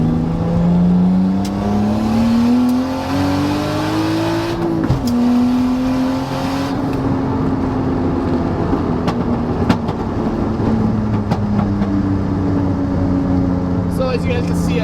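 A manual car accelerating while being upshifted quickly: the engine drone climbs steadily, drops sharply at a gear change, then climbs again, heard from inside the cabin while someone talks over it.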